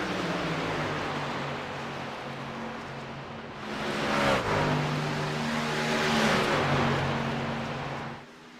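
Race cars held at full throttle on a superspeedway in iRacing: a steady, loud, droning engine roar with several cars layered, swelling as a pack passes and then dropping away at the end.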